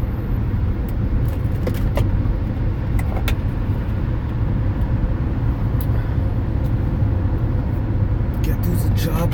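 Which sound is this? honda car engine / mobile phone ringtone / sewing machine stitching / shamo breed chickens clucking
honda car engine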